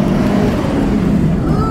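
A car being driven hard around a racing circuit, drifting through a corner, gives a steady, loud engine roar heard from inside the cabin, with faint voices in the background.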